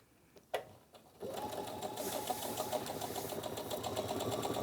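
A sewing machine stitches scrap fabric into a leaf shape. After a faint click and a short pause it starts up and runs steadily, a close, even mechanical whir with rapid needle rhythm and no talking.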